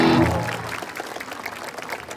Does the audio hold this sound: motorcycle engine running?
no